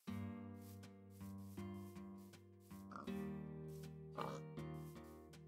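Repeated synthetic pig oinks and grunts from the video game Minecraft sound over a steady, droning background tone, with a couple of brighter scuffing bursts.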